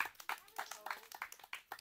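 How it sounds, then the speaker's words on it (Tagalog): Scattered hand clapping from a small group at an awards presentation for the black team, quick uneven claps in a loose rhythm, fairly faint and close. "Palakpak!"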